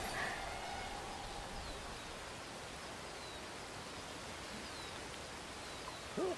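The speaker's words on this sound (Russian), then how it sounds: "Опять дождь полил, короче." Steady rain falls in a prehistoric wilderness in the game Ancestors: The Humankind Odyssey, a dense, even hiss throughout with a faint bird call near the start and a brief soft sound at the end.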